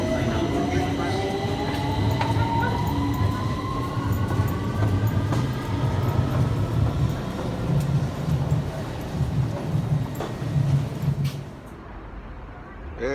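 London Underground train running on a line with mechanical issues, a steady loud rumble with rising and falling whine tones throughout, easing slightly near the end; faint voices may mix in.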